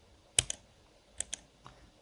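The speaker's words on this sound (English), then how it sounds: "So I'm gonna select it and press delete on my keyboard." A computer keyboard gives a few sharp, close key taps in two quick pairs, then one faint tap, in an otherwise quiet room.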